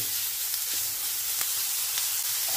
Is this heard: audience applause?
no